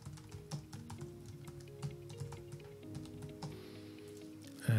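Rapid, steady clicking of a computer keyboard as an email address is typed, quiet and close, with a few irregular pauses between bursts of keystrokes over a low background hum.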